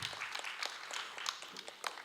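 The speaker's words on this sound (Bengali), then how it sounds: "হাততালি দেবেন।" Audience applause fills a theatre hall during an on-stage felicitation with a bouquet at a Bengali drama performance in Kalyani, a steady, moderately loud crowd clapping that holds throughout.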